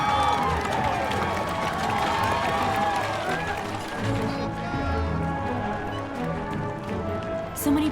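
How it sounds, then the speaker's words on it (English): A crowd cheers to greet arriving royalty, a lively wash of voices and clapping at moderate distance, steady throughout with some tapping and footsteps mixed in. "Then we heard the cheering."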